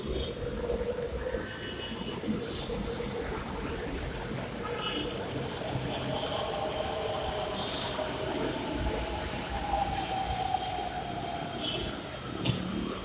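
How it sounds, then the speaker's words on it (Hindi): A metro train rumbles along the track with rising and falling mechanical whine, a few sharp squeaks, and people talking over it. "ये मेट्रो आ रही है"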